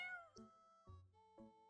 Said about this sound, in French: Un petit chat ici.